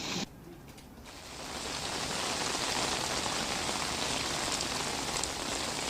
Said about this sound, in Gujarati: જાફરાબાદ પંથકમાં વરસાદ વરસી રહ્યો છે